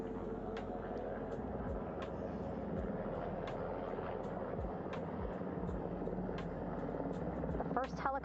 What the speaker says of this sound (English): That's a helicopter, all right.